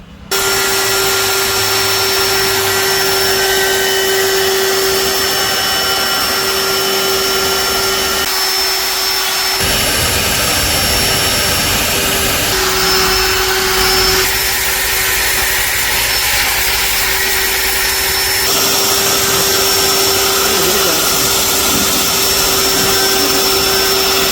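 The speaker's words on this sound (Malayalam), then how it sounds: "ഈ റൂട്ടർ മെഷീൻ വെച്ച് ഈ വരയുടെ പുറത്തുകൂടെ നമുക്ക് ഇങ്ങനെ അടിച്ചു കൊടുക്കണം" A small electric router carving wood along drawn lines, a loud, continuous high whine that holds steady, with its pitch and grinding texture shifting as the bit works through the wood.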